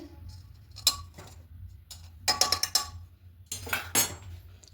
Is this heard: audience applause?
no